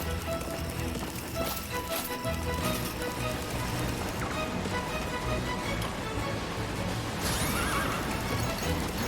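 A horse whinnies amid a dense, busy soundscape of hoofbeats, rushing noise and music in the video game Puppeteer, with a sharp neigh rising near the end.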